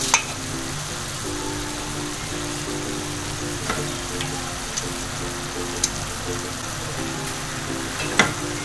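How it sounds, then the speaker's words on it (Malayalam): Calamari, squid and prawns fry in a pan for an Italian seafood pasta, making a loud, continuous close-up sizzle with a few sharp pops and spatters scattered through it. "നമ്മളിപ്പോൾ കലമാരിയും കൂന്തലും ചെമ്മീനോടെ അങ്ങ് ഇട്ട് കൊടുക്കുന്നു."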